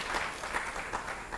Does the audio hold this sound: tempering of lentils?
no